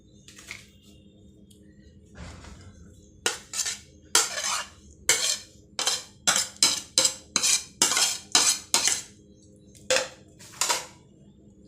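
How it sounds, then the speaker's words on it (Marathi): A spoon mixes a mixed dal batter with chopped spinach, coarsely ground peas and coriander in a bowl, making clinking, scraping strokes in a quick, uneven rhythm after a few quiet seconds. "आता हे सर्व एकत्र करून घेऊया."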